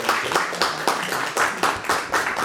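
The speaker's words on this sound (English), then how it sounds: "please join me in a round of applause" A small seminar audience claps in a short round, distinct rhythmic hand claps repeating at a steady pace, close and clear with no talk over them.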